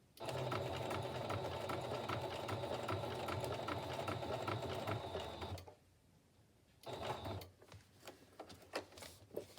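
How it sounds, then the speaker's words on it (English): Sewing machine zigzag stitching around a crunchy journal cover made from packaging, a loud, fast, steady rattling run for about six seconds, then a pause and a few shorter bursts of stitching, close and without talk. "If you're zigzag stitching, you always want to end with your needle toward the inside of the page."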